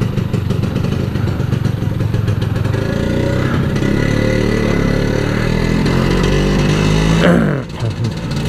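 A Vespa scooter engine runs close and steady, a loud, buzzing mid-pitched drone with clattery overtones that holds for about seven seconds, then fades abruptly as it moves off.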